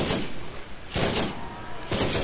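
Gunfire in the co-op shooter game Borderlands, three heavy bursts of shots at roughly one-second intervals over continuous game noise, loud and close.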